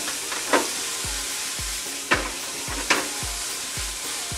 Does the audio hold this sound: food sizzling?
yes